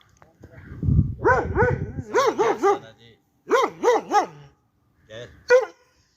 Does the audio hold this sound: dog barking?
yes